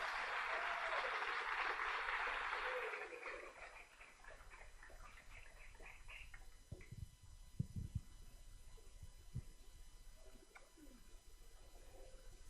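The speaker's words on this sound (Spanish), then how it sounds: "Recibámosla con un fuerte aplauso." A convention audience at the FHOMUNEC 2025 women's session claps to welcome a speaker. The dense applause fills the first three seconds, then fades into a quiet room with a few faint scattered knocks and shuffles.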